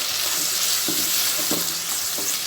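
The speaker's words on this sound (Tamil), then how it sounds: "அது வரை இதை நம்ம நல்லா வதக்கிக்கலாம்" Chopped onion and tomato sauté over medium flame in a pan for a dried-fish curry, with a close, steady sizzle and a few scraping spatula strokes against the pan.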